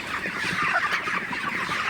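A flock of broiler chickens clucks and chatters continuously in a poultry shed, a busy overlapping murmur of fowl calls filling the space at moderate volume.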